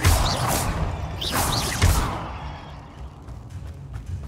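A Bombarda explosive spell cast in the video game Hogwarts Legacy, heard as two loud whooshing blasts with crashing impacts about a second apart, each fading into a low rumble.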